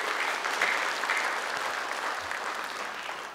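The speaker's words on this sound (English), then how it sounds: "big hands of applause for our three presenters" An audience at a college scholarship workshop applauds its presenters, a dense burst of clapping that is steady and then tails off slightly over a few seconds.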